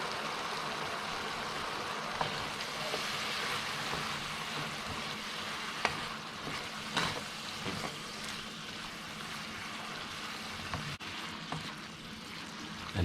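Brandy sizzling in a hot pan with mushrooms, a steady, dense crackling hiss that holds evenly throughout with small pops scattered across it, close and fairly loud.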